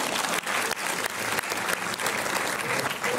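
Audience applause fills an opening night at the Montreuil film festival, dense steady clapping from a crowd holding at full level for about three seconds without a break.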